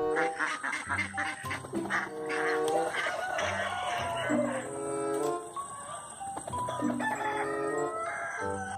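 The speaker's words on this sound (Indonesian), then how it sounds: "Wadidaw, ada bebek." A duck quacking in a casual animal-cleaning video game, with repeated cartoonish quacks and clucky bird calls over bright game music, loud and close.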